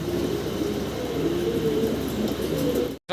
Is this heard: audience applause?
no